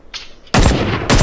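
Gunfire in the video game Ring of Elysium: a faint lead-in, then two loud, dense bursts of rapid shots, close and harsh, with a brief gap between them.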